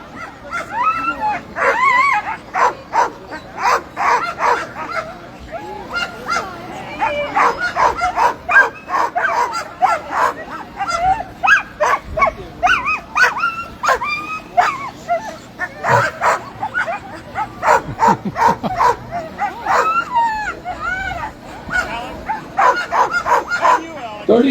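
A sled dog team at the start of the 2023 John Beargrease Sled Dog Marathon 120 race barks, yips and whimpers excitedly in dense overlapping bursts close by, with faint crowd and announcer sounds underneath.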